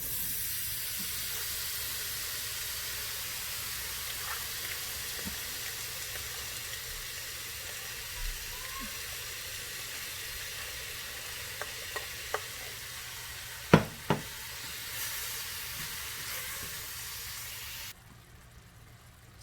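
Apples coated in cinnamon and sugar sizzle steadily in a cast iron skillet for a caramel apple crumble, a broad constant frying hiss with a few scattered taps and clicks of stirring, close and unbroken by speech until it cuts off near the end.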